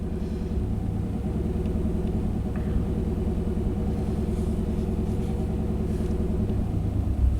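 A 1991 Chevy K1500 pickup truck engine idling, a steady low rumbling drone with an even, rapid pulse, close and continuous with no talk.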